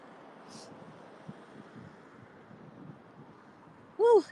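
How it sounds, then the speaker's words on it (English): Wind rushes steadily against the microphone in a low rumbling wash, with a short burst of voice right at the end. "Whew, it's windy."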